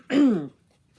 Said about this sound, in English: I really need to clear my throat